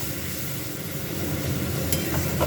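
Soybean chunks and potatoes sauté with spices in a pan, a steady close sizzle and stir with a few clinks of a utensil against the pan near the end.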